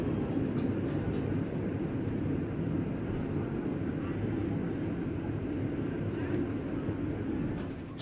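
A train pulls into Sepanjang station on track 4, a steady loud rumble of wheels and engine filling the whole stretch, close by and continuous with no voices.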